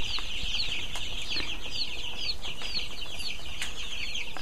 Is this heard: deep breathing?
no